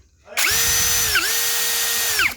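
A budget cordless drill spins up at high RPM, a loud steady whine that starts abruptly, dips briefly once in the middle, then holds until it winds down at the end.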